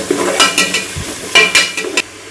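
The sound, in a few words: tomato added to onions frying in sunflower oil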